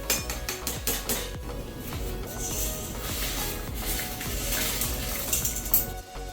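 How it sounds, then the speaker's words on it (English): Dry rice poured into a pot of boiling water, a dense clattering patter of grains over a rolling bubbling boil, loud and close throughout with no talk. "so our water is boiling. We're just going to add our rice."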